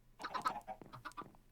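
A quick run of clucks from a chicken in the CS:GO video game, several choppy notes packed into a moment, close by with nothing else over them.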